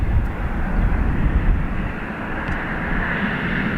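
Aer Lingus flight EI 526 taking off from Dublin Airport, a loud sustained jet engine roar with heavy low rumble, steady at first and thinning slightly toward the end.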